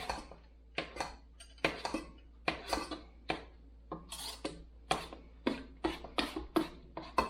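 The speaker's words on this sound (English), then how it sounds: "Stir that in and give that a mixture. Mix it up." Spoon scraping and knocking around a pot of rhubarb mixture on the stove, in repeated irregular strokes with sharp clinks, close and clear with no talking.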